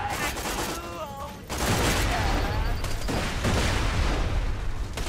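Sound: grenade explosions and gunfire in video game Borderlands 2

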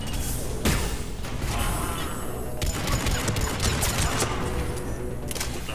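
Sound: distant explosion in video game Mass Effect 3

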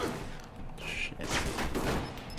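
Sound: gunshots from the video game Alpha Protocol

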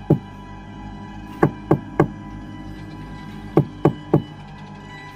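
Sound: knocking on a house door

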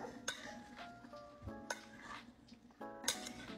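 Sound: stirring an apple and strawberry salad

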